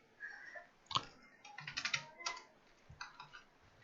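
Code being typed on a computer keyboard, a quick, uneven run of close plastic key clicks in short bursts with small pauses, no talking.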